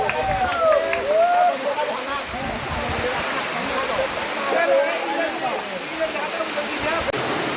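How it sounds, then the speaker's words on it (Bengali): A waterfall in Rangamati, fed by water running off a rock wall, rushes with a steady broadband roar. Bird calls chirp over it and a voice speaks faintly in the background. "এটাই হচ্ছে মেইন ঝর্ণা যেখানে মানুষজন সবাই আসে।"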